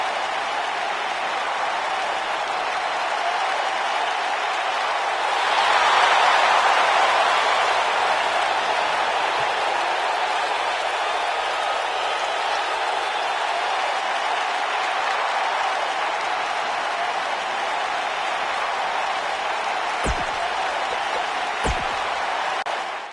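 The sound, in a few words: arena crowd applauding in WWE 2K19 video game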